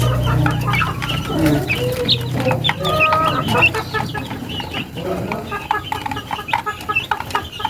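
Chickens, including one with a cold, cluck repeatedly nearby in overlapping, busy calls, with rustling farmyard noise and some talking mixed in.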